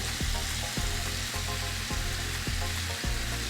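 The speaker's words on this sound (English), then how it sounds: "I put my red pepper, and I just give this a good stir" Spices and red pepper for Nigerian fried rice sizzle in a frying pot, loud and close, while a spoon scrapes through them in regular strokes about every half second. No talking.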